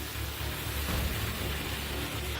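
Heavy monsoon downpour over a flooded town in Bageshwar, Uttarakhand, a loud, unbroken wash of rain with a deep rumbling undertone, steady and close for the whole stretch, no voices.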